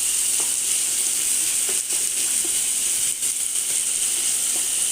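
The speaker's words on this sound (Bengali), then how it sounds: "যতক্ষণ একটু বাদামি কালার না আসছে এটাকে আপনারা ফ্রাই করে নেবেন।" Onions frying with added sugar in a pan for a Bengali dal and chicken meal, a steady loud sizzle with faint scrapes of stirring, close up and without talk.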